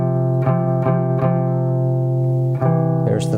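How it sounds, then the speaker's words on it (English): A guitar sounds a perfect fourth interval, with a steady sustained chord re-plucked several times at an even pace, close and clean, and no one speaking. "Perfect fourth has a nice sound to it."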